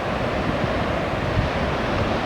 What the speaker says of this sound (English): Just a beautiful night, something with the breeze blowing.